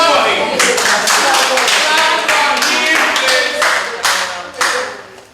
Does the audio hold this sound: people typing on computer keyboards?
no